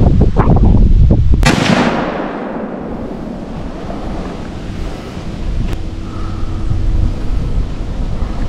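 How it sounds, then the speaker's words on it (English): A single sharp rifle shot cracks out while deer hunting from a tree in an open woodlot, loud and close, then trails off into a long decaying rumble over windy outdoor background noise. "I just shot what looks like a doe from out of a tree"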